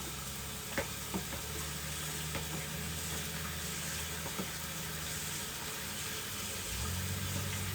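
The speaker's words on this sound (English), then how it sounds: "I'm just gonna go ahead and rinse the noodles just so it just stops cooking." Cooked ramen noodles rinsed under running water in a kitchen sink, a steady broadband hiss of flowing water with faint clicks, continuous throughout and shifting slightly near the end.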